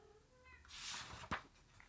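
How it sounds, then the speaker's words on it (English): A house cat gives a faint drawn-out meow in the background of a quiet room, followed by a brief sharp click. "Did you hear my cat?"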